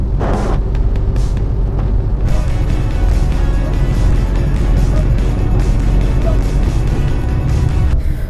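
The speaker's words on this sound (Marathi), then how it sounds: "मस्त छान अशी ओव्हरटेक करते गाडी" A Tata Nano automatic drives and overtakes on a rain-soaked road, giving a steady, loud rumble of engine and tyre noise with constant wet hiss throughout.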